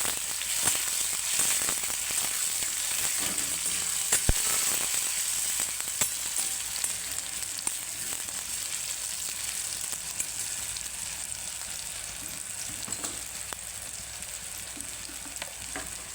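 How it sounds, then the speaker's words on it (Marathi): Chopped tomatoes sizzling loudly in a hot pan as they are stirred in, a continuous bright crackle with occasional scraping clicks of the spoon throughout. "सर्व टोमॅटो चिरलेला आहे मिक्स करून घेणार आहे"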